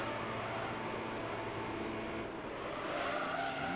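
Race car engine from Gran Turismo 3 on track as the car loses control, a faint steady drone with tyre noise and a rising whine near the end, no voices.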